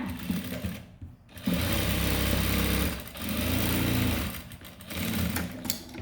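A sewing machine stitching a blouse runs in three loud, steady bursts of rapid mechanical whirring with brief pauses between them.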